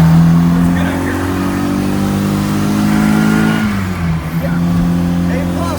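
Car with a 998 engine revving hard as it accelerates in second gear up a steep hill, a loud, steady engine drone whose pitch climbs, then drops briefly at a gear change near the end before building again.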